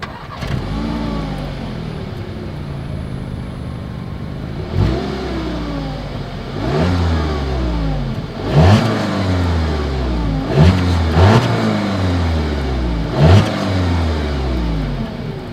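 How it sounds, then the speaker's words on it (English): A 2020 Audi A3 revs repeatedly through its dual exhaust, each throttle blip rising sharply and falling back to a deep idle, close and loud. "As always, here is that exhaust clip."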